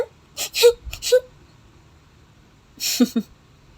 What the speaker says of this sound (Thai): หยุดร้องไห้เสีย เป็นเจ้าสาวที่ขี้ริ้วขี้เรเสียจริง